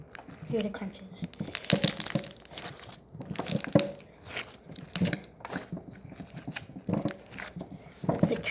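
Crunchy slime squeezed and popped by hand, giving repeated close crackling crunches and small pops in uneven bursts, with a soft voice now and then.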